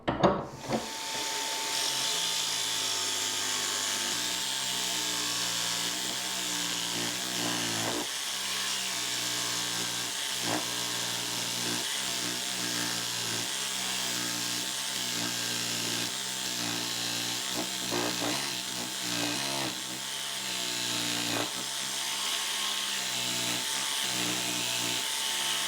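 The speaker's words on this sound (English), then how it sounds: "So jigsaw is probably not the best option for that" Jigsaw cutting Myrtle wood for a longbow riser, a loud, close, continuous buzzing saw with a steady motor whine and rhythmic rasping strokes through the timber, running for nearly half a minute.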